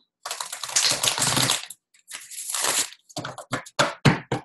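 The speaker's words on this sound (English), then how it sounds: "One more shuffle." A tarot deck riffled twice with a dry, papery flutter, then a run of short, crisp taps as it is knocked together. Near and clear, no voices.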